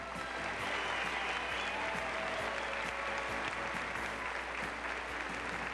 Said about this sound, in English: A warm round of applause for the first half of our contestants.